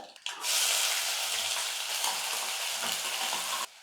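Chopped onion hits hot oil with a sudden loud sizzle that crackles steadily for a few seconds, then cuts off abruptly, while cooking semiya upma.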